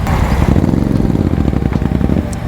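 A Royal Enfield Meteor 650 motorcycle engine idles close up with a deep, rhythmic thumping pulse, loud and steady for the whole stretch.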